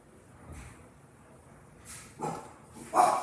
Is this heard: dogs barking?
yes